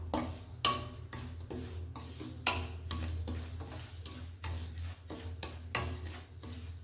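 Field bean upma roasting in a spoonful of oil in a pan: a steady low sizzle with repeated scraping stirs and light ladle clinks against the metal, close up, no talking.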